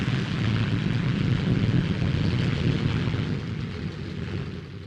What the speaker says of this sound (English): the P-1067, the fastest fighter flying today.